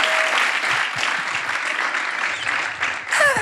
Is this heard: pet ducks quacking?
no